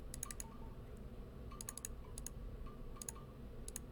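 Keystrokes on a computer keyboard come in short quick bursts, several clicks at a time with pauses between, over a steady low hum during drafting software work.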